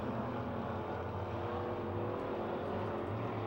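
Modified race cars lap Pennsylvania Motor Speedway near Pittsburgh, a steady, dense engine roar holding for a few seconds with no clear single pass-by.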